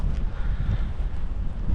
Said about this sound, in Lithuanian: Ir tegu pučia tas vėjas.